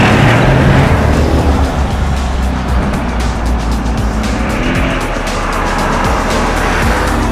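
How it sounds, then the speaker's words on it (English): A 2012 Mercedes-Benz AMG SL63 with its V8 engine accelerating on the road, a loud, steady, close-up engine roar that holds for several seconds with no talking over it. "But you still get that lovely V8 note."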